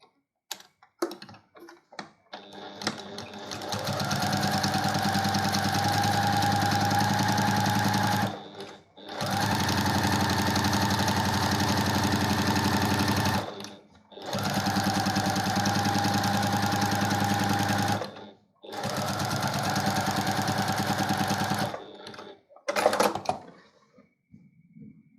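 A sewing machine quilts a small cross hatch pattern on a traditional quilt, running in four long steady mechanical bursts separated by short pauses and handling clicks, loud and close.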